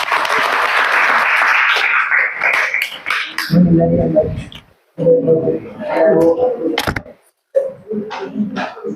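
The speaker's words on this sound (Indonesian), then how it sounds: "Beri aplaus untuk Eca." A classroom of students applauds a fellow student, a dense burst of clapping for about three seconds, followed by voices speaking.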